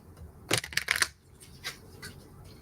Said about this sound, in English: I think I'm supposed to do one shuffle.